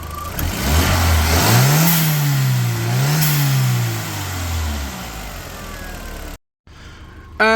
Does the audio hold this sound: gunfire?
no